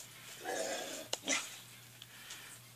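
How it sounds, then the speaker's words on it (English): A pet dog barks indoors, letting out a few quick, soft barks and yips close by but at low level, with brief gaps of room quiet between. "my dog starts barking"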